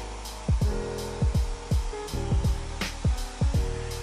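A handheld hair dryer blows steadily and close up while hair is being styled with a brush. The constant roar is punctuated by regular rhythmic whooshes and thumps as the airflow sweeps across the hair.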